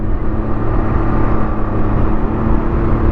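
A Can-Am off-road vehicle riding along, its engine giving a loud, steady droning hum with wind rumble, continuous with no talk.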